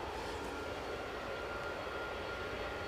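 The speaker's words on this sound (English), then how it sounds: "Just in time to wave this British Airways A350 off to London Heathrow" A British Airways A350 departs Edinburgh for London Heathrow, its engines a faint, distant, even roar lasting a few seconds without talk.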